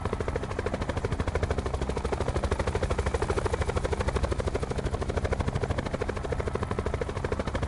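A video game helicopter's steady, rapid rotor chop drones on without pause, loud and close, with dense rhythmic thumping throughout.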